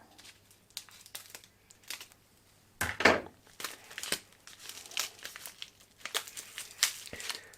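Close, crisp crinkling and rustling of thin plastic packaging in irregular bursts, with a sharper crackle partway through.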